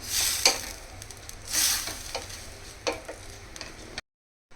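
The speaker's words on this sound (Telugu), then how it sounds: "మనం ముందేగా నానబెట్టుకున్న ఓట్స్ వేసేసుకోవాలి. మొత్తం ఒకసారి కలుపుకుందాం." Soaked oats are stirred into cooked moong dal for pongal, giving soft scraping and ticking spoon-on-pot sounds with a couple of louder wet swishes, close and fairly quiet, then silence.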